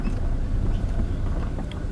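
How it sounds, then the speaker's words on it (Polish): A jet ski speeds across a lake as a steady, distant motor drone mixed with wind rush on the microphone, with no voices. "na wodzie widzę łódka szaleje, czy może to nie łódka, raczej e, skuter e, wodny"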